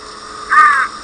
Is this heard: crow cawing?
yes